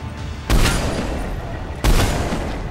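Two sharp, booming Black Widow sniper rifle shots in the video game Mass Effect 3, about a second and a half apart, each followed by a lingering rumble, loud and close.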